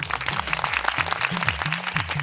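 An audience claps for a contestant on a Yorùbá-language children's game show. A steady patter of applause runs throughout over a low, bouncing musical tone, with no voices.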